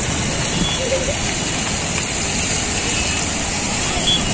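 A park waterfall sends out a continuous broadband rush of falling water that holds steady throughout, with faint voices in the background.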